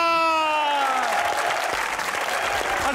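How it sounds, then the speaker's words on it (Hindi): A studio audience at a television comedy chat show breaks into loud, dense applause to welcome a guest. A musical sting fades out at the start, and a voice briefly calls out over the clapping. "बुलाने जा रहा हूं सोशल मीडिया की जान, तालियों में रुमैसा खान"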